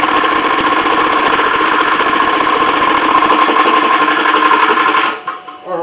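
An air compressor runs steadily, filling a PCP air rifle, an Umarex Gauntlet .25, with a loud continuous mechanical drone that cuts off near the end, leaving brief quieter residual noise.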